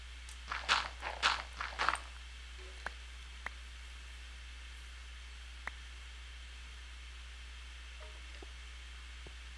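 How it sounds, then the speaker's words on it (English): Soft footsteps of a creeper in Minecraft, a quick run of about five scuffing steps close by, then faint scattered ticks over a steady low hiss. "Only sound it's making is footsteps."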